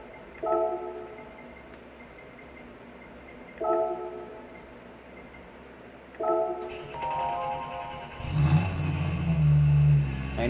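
A Hyundai N car in Gran Turismo 7, with three brief revving blips spaced a few seconds apart, followed by a louder, fuller engine roar building toward the end.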